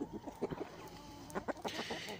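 Soft clucking from a large yearling hen, several short broken calls spread irregularly, fairly near with faint farmyard background.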